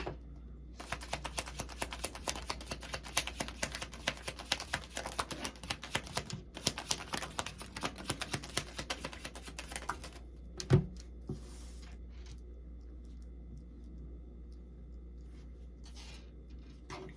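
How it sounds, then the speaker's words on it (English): Tarot cards being shuffled, a dense run of rapid riffling and flicking for about ten seconds, close and fairly loud, then a brief clack and quieter handling of the cards. "Okay, I'll get the cards out first, and then I'll begin."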